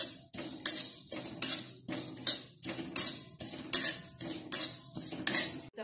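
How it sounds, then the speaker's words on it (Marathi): Metal spoon scraping and clinking against a pan while cloves roast in a little oil, repeated rhythmic strokes, close and fairly clear with no voices. "असंच आपण थोड्या तेलामध्ये आता लवंग भाजून घेऊया।"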